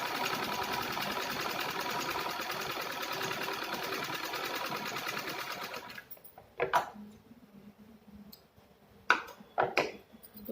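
A sewing machine runs steadily, stitching a seam along the top of a fabric organizer with pockets, a dense continuous whir for about six seconds before stopping, followed by a few brief clunks and handling sounds.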